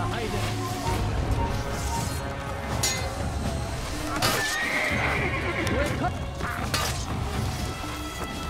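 A horse whinnies loudly over rapid clip-clopping hooves, with clashing and thudding impacts mixed in, sounding like a game soundtrack from Assassin's Creed during mounted combat.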